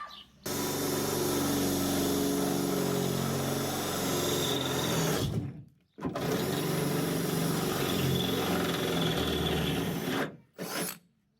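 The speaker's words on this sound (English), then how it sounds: "Now we're gonna drill holes through all the corners" A power drill whines steadily for about five seconds, stops, then bores again for another long stretch through the corners of a hood vent's metal on a Ford Ranger PreRunner, loud and near with a grinding edge.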